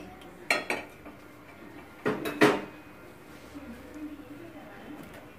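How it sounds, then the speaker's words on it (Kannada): A metal cooking pot set onto a kitchen stove while preparing ragi mudde, with a few short sharp clanks and knocks, near and fairly loud, in an otherwise quiet room. "ಸ್ಟೌವ್ ಆನ್ ಮಾಡಿ ಒಂದು ಪಾತ್ರೆ ಇಟ್ಟು"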